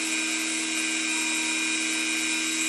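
A Dremel rotary tool cutting through a nail, a constant high-pitched whine held at steady loudness throughout, with no talking.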